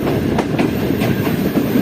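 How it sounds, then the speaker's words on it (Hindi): Aboard the Karachi Express passenger train as it slowly accelerates, a loud continuous rumble fills the carriage with soft rhythmic wheel clacks over the rails. "तो आहिस्ता आहिस्ता एक्सीलरेट कर रही है ट्रेन।"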